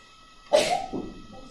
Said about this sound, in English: No, it was a quality sneeze.